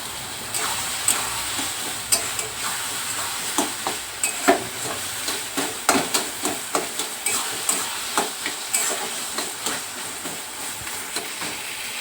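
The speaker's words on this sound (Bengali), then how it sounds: "ততক্ষণ কিন্তু আমি এইভাবেই এটাকে নাড়তে থাকবো" Taro leaves (kochu shak) being stirred in a pan, with a steady faint sizzle under repeated scraping strokes of a spatula at an even rhythm, close and moderately loud throughout.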